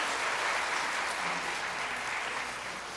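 A church congregation claps through a Sunday service, a thick, sustained round of applause at steady volume that tapers slightly toward the end.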